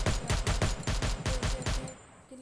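Gunfire in the video game Free Fire: a rapid burst of about ten sharp, loud shots in quick succession, ending abruptly with a short metallic tail.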